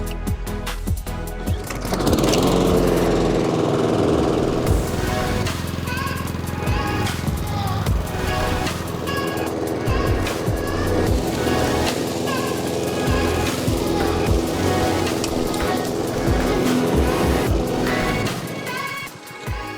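A rebuilt Honda GCV walk-behind lawn mower engine starts after a moment and runs steadily at a loud, close, droning idle for most of the stretch before cutting off near the end.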